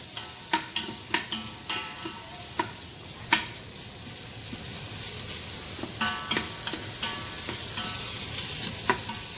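Onion stirred and sautéed in an Instant Pot, a continuous sizzle broken by repeated sharp spoon scrapes and knocks against the pot, near and fairly loud.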